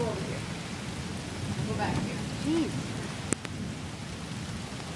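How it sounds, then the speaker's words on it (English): Heavy rain during a thunderstorm falls steadily as a dense hiss, with a sharp crack partway through, while people talk briefly over it. "Yeah, it's raining pretty hard."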